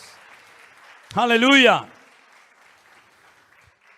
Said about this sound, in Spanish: Fuertes aplausos a nuestro Dios en esta tarde.